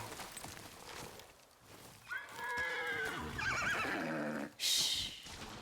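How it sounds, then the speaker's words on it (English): Horses neigh and whinny in the video game Ghost of Yotei, a loud, shrill call wavering up and down over rough background noise, then a sharp burst near the end. "The horses feel something's wrong."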